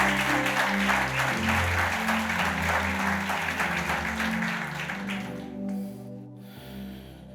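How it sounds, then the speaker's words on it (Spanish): A church congregation applauds at a Spanish-language service, a dense wash of clapping over sustained music that fades out near the end. "Denle un aplauso al Señor."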